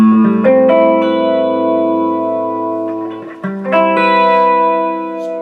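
A Gibson ES-137 electric guitar with both volumes and tones at 7 plays through an amplifier, ringing sustained chords with a reverb tail. A brief pause splits the chords. The guitar sounds alone and close.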